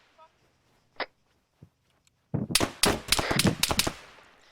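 Gunfire in the video game Arma: after a few faint isolated pops, a loud close burst of rapid automatic shots erupts, then continues in ragged volleys.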